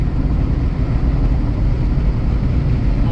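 Steady loud road roar and wind buffeting inside a 2011 Ford Escape driving with the windows open, a dense low rumble that stays constant throughout with no talking.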